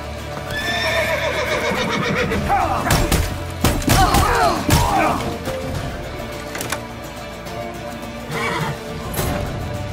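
A horse in The Witcher 3: Wild Hunt whinnies loudly and gallops with heavy thudding hoofbeats, while characters shout over the chase.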